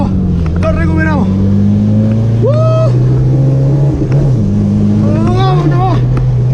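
A stock Toyota Corolla TE71 with a 2T engine drifting on a rainy day through water, its engine loud and close, revving up and down with rising and falling pitch while people talk excitedly over it.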